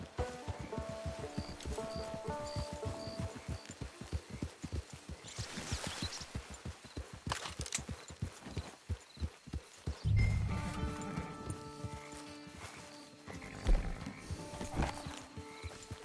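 Rhythmic hoofbeats clip-clop steadily in Red Dead Online, joined by a horse's neigh and snorting, with ambient outdoor noise and a final burst of hooves.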